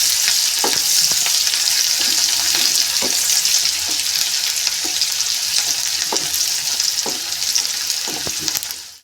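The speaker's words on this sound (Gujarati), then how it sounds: "હવે આપણે આ કાંદા ઝીણા સમારેલા છે એને સાંતળીશું. આપણે ધીમા ગેસે એને સાંતળી દઈશું." Finely chopped onions sauté in a pan over a low flame after mustard seeds have popped, giving a steady, close, dense sizzle throughout, broken by occasional soft scrapes and clicks of stirring; no one speaks.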